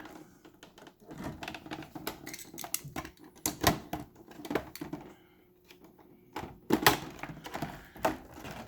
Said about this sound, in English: I'm just cutting tape, nothing special.